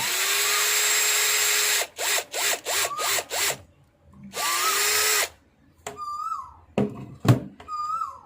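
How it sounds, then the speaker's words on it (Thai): A power drill whirs steadily while boring a hole, then runs in several short, rapid bursts, then one more sustained run, followed by quieter chirping sounds. "เจาะลงไปเลย"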